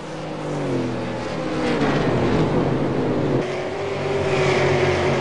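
A pack of V8 Supercars racing at Watkins Glen in a sim racing game, engines droning loud and steady with rising and falling harmonic whine as several cars run close together.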